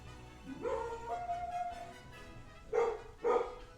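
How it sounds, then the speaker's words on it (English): A dog in the Super Mario RPG video game yelps and whines in a few sharp, high bursts: one drawn-out cry, then two quick barks, over soft game background sound. "One of the dogs just started freaking out there."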